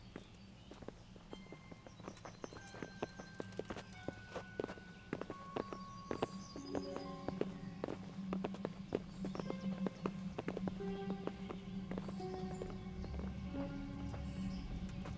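Horse hooves clip-clop in the medieval game Kingdom Come: Deliverance, many overlapping hoofbeats on hard ground forming a busy, uneven patter, moderately quiet and continuous, with faint metallic tack jingles and no voices.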